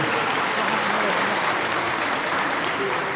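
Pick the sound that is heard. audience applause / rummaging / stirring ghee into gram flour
audience applause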